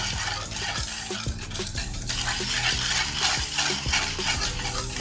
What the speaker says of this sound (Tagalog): Haluin lang natin ng haluin to hanggang sa lumapot